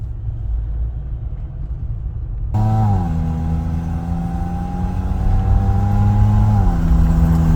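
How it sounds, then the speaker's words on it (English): A 2021 Jeep Wrangler EcoDiesel engine running: a low rumble, then a steady droning hum with a clear pitch that holds level and dips briefly, close and loud. "this is a Jeep Wrangler 2021. Eco Diesel"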